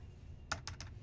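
A few quick keystrokes on a computer keyboard while entering router and switch commands, three close, crisp clicks in a fast cluster over a quiet background.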